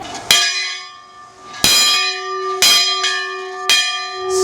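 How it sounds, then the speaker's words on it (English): A school bell at L'Ecole No. 41 winery in Walla Walla, Washington rings out in four loud, resonant strikes spaced about a second apart, each leaving a long ringing tone. It is close and clear, with no talk. "We normally start our day at school with the bell, but at L'Ecole number 41, it's how we end our day."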